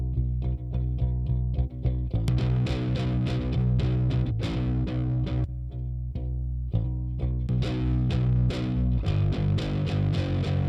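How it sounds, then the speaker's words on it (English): An electric guitar plays chords through a heavy virtual distortion pedal plugin, thick and sustained, with rhythmic strums over nearly eleven seconds. "I'm going to activate my distortion. I'm going to show you what that sounds like."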